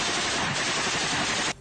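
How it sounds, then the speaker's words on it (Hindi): A fighter's machine gun firing in an attack on Ukrainian army positions, a loud, dense, rapid burst of gunfire lasting under two seconds before cutting off abruptly. "एक लड़ाका मशीन गन से एक तरफ ताबड़तोड़ गोलियां चलाता दिखाई दिया।"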